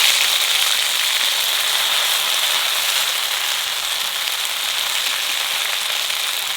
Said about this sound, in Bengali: আদা রসুন একটু ভাজে নিছি